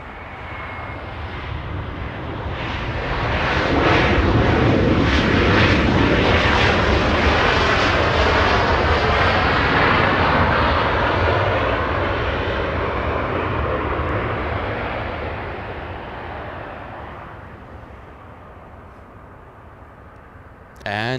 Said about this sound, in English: a 737-800 coming in